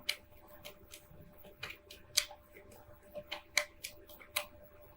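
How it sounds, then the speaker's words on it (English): Tarot cards are shuffled in a quiet room, a series of soft, crisp riffling and snapping bursts at an irregular pace, close but faint. "let me shuffle here with these, call them my clarifying cards"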